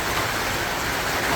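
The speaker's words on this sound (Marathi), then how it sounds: "एकदम जोराचा पाऊस पडतोय" Heavy rain pours outside a home in a continuous dense wash of noise, close and unbroken, with no voices over it.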